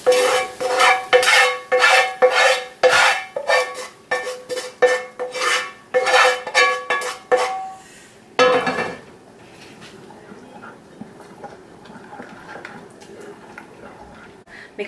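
A spoon scrapes and clinks repeatedly against a pan as fried curry leaves and chillies are stirred into an oat dosa batter. The clatter is close and rhythmic, then a quieter stretch follows while someone talks.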